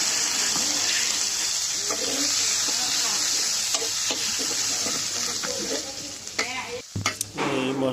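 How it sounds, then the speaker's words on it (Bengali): Ground spice paste frying in oil left over from frying fish in a kadai, stirred steadily with a constant loud sizzle and scraping strokes that turn sharper and more broken near the end. "এই মশলাটা এখন আমরা সুন্দর মতো ভেজে নেব"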